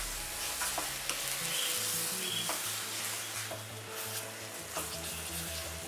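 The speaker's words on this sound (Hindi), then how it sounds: "अभी इसमें डालते हैं पीठी शक्कर, इसे अच्छे से मिक्स कर लेंगे।" Mawa and powdered sugar are stirred together in a hot pan for lavang latika filling, giving a continuous soft sizzle broken by occasional scraping strokes, with low tonal background music underneath.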